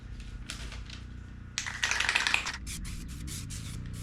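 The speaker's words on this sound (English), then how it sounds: "It's not spraying real well now." A clogged Rust-Oleum outdoor fabric spray paint can sputters in short, uneven hissing bursts, with one longer harsh spray in the middle followed by several choppy spurts, close and fairly quiet.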